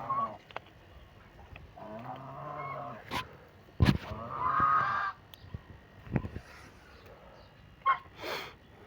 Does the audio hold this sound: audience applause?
no